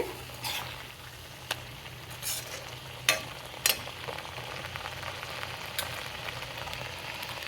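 Bottle gourd fries in a pan with a little salt, giving a steady low sizzle broken by a few sharp stirring clicks and scrapes, close and moderately quiet, with no talking.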